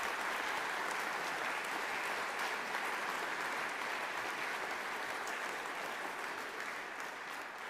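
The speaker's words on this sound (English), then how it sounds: "round of applause for those guys" Steady, dense applause from a results-ceremony crowd honoring volunteers and stewards, a continuous wash of many hands clapping that fades slightly toward the end.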